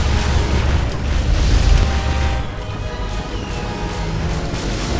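Missile explosions in the space combat game Wing Commander Saga: The Darkest Dawn, a loud deep rumbling boom that swells and then settles into a sustained low roar.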